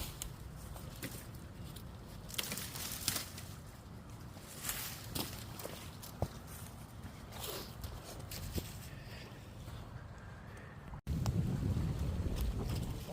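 Steady wind blowing outdoors, a broad continuous rush with gusty swells and some buffeting on the microphone, alongside scattered rustles and crunches of dry brush being handled nearby; it turns louder and rougher near the end.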